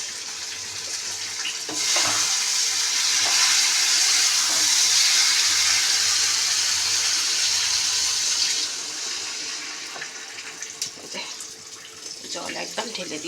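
Water pours steadily and loudly into a cooking pot in a home kitchen before fish go in, a broad rushing stream that runs for several seconds and then stops, leaving quieter clatter and handling sounds.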